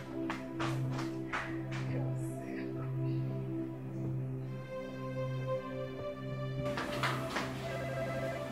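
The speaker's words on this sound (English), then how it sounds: "My phone is ringing." A phone ringing in a steady repeating pattern of electronic tones, moderately close and fairly quiet, with faint room sound and no talk over it.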